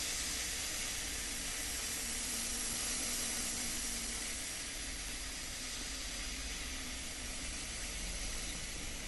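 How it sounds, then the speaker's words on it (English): A sprinkler line being blown out with a pancake air compressor sprays air in a loud, continuous hiss that holds steady with no pauses. "we're going to wait until that sprays air"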